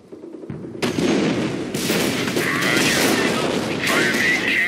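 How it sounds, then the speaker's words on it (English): Heavy gunfire and artillery blasts from the World War II strategy game Company of Heroes, a dense, loud barrage of shots and booms that runs almost without a break after a brief quiet start. "Heavy enemy fire on our position."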